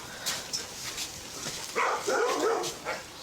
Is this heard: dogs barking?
yes